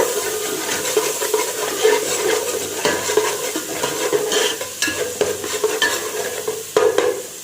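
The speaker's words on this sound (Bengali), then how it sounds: "প্রথমে দিয়ে দিচ্ছি এই যে রসুন বাটা। ফ্লেমটা হাই আছে।" Garlic paste sizzles in hot oil in a pan over a high flame, a loud, steady frying hiss with frequent scraping stirs throughout and no talk.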